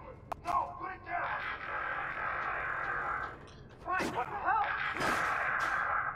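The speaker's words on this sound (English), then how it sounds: "Is that gunshots?" Gunshots in a detective video game, a few sharp cracks near the start and heavier, echoing bursts later, heard among voices and a steady background hum.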